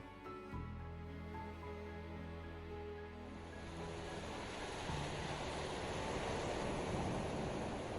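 Waves wash onto a sandy beach along the Dhofar coast of Oman, a steady broadband surf roar that swells after a few seconds and continues alone at moderate distance.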